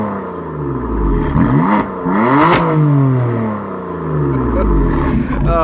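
A BMW M3 fitted with an M Performance exhaust revs repeatedly in sport mode, the engine climbing and falling in loud, close blips with a crackling edge between pulls.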